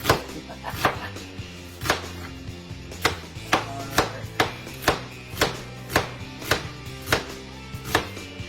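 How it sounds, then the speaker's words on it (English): A knife chops vegetables on a cutting board in a home kitchen, about fifteen sharp, fairly even knocks at a relaxed rhythm, close and moderately loud with no talking. "One more chop, chop, chop."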